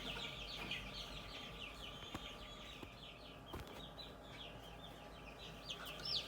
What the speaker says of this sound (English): at the end of the day, we have 6 new chicks